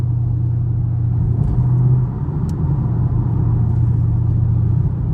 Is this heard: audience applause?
no